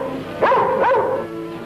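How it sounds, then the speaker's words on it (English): A hunting dog gives two quick yelping barks close by, short and high-pitched, with nothing else around them. "The other man had a hunting dog."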